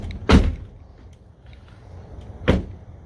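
A 2020 Ford F-150 truck door shuts twice, each a solid, low, close thud about two seconds apart, with quiet in between.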